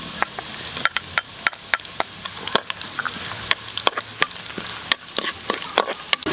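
Garlic frying in a pan for a beef offal dinuguan, with a steady sizzle broken by repeated sharp clicks of a utensil stirring against the pan, close and continuous.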